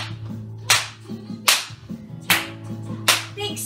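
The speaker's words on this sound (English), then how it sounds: "And now let's clap those fingers together." In a children's ballet dance class, claps ring out in a slow, even rhythm, four sharp hits spaced under a second apart, over a steady background of music.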